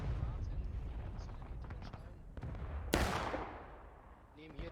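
Cannon fire in a Civil War battle game on Nicodemus Hill, a single loud booming blast with a long decaying rumble midway, amid scattered distant shots and voices speaking under the battle noise.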